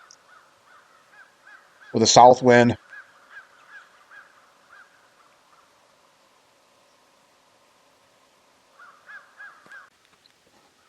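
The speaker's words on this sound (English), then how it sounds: "Crows are going nuts." Crows caw repeatedly at a distance during a November morning deer hunt, faint rhythmic calls in short bursts, with a close voice briefly speaking in between.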